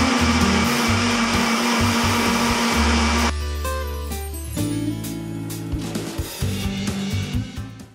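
A blender running loud and close, whirring hard on soaked raw cashews and liquid, its motor pitch dropping and shifting as the thick mixture churns, then easing off near the end.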